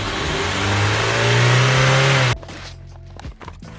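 A Honda Civic hatch's D16Y8 engine, just fitted with a swapped intake manifold, runs and revs loudly nearby, rising and holding a strained, droning pitch before it shuts off abruptly, leaving quiet clicks and shop noise.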